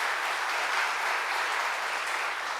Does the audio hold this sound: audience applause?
yes